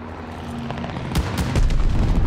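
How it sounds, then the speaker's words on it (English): Bombing-run explosions in the video game Call of Duty Vanguard, Team Deathmatch on Bocage, start in the second half as a cluster of heavy booms over a constant low battle rumble. "Bombing run coming in"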